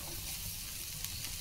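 Onion frying in a pan gives a steady, close sizzle with a faint scrape of stirring, holding one even level throughout with no voices.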